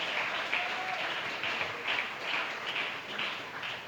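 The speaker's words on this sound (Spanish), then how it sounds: "¿Por qué no le damos un aplauso al Señor?" A church congregation applauds steadily, with dense, continuous clapping filling the space at a moderate, even level throughout.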